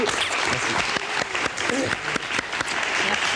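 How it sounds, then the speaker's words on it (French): Studio audience applauding on a French television show, a dense wash of clapping with some sharp individual claps, mixed with speech and other sound throughout the short stretch. "Merci beaucoup, on vous applaudit."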